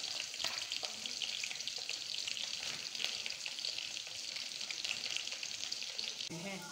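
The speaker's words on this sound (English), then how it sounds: "Now my palm oil is very, very hot. I will be adding my onions and I will allow it to fry well." Onions frying in very hot palm oil give a steady, loud, close sizzle that runs unbroken throughout, with a brief change near the end.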